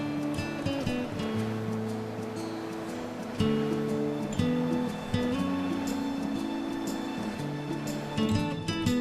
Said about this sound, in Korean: 바위를 타고 시원하게 흐르는 물소리를 들으며 잠시 힐링의 시간을 가져봅니다